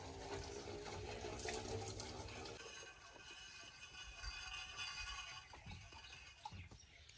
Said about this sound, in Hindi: बाद में बोर में पानी डाल दिया जाता है